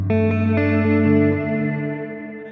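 An electric guitar chord rings out through a Fractal Audio VP4 with delay and reverb engaged, repeated plucks blooming into a sustained, shimmering wash that slowly fades.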